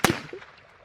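One sharp crack from an H&K MP5 in .22 LR fired in a backyard, close and loud, with a short trailing echo that fades within a second.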